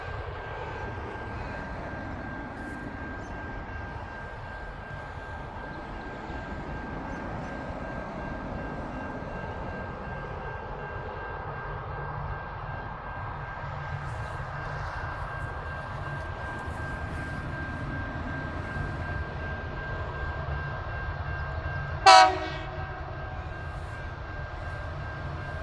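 Four freight locomotives climb through the Adelaide Hills with a steady, loud, droning engine rumble and a constant tone throughout, then a single short, sharp horn blast sounds near the end.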